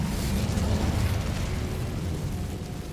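Incendio fire spell cast in Hogwarts Legacy: a steady, dense roaring whoosh of flame with a deep rumble, sustained for a few seconds at fairly even loudness and no talking over it.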